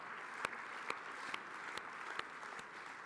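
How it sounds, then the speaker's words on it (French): Applause from a party congress audience in a hall, a dense steady wash of clapping heard from a distance with a few sharper claps standing out at regular intervals. "on peut effectivement applaudir Marie-Pierre."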